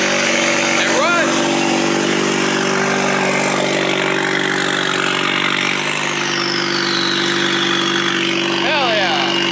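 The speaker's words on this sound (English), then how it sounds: "the car seems to be running and idling good" A Ford Fusion's 2.3 EcoBoost engine runs at a steady idle with a low, even hum, loud and close throughout, after new injectors and a high-pressure fuel pump have gone in. A few faint chirps sound over it.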